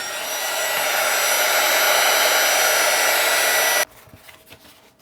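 Hot air from a heat gun blows steadily onto contact cement for woodworking, a loud close whooshing hiss that cuts off abruptly near the end, leaving a quiet room.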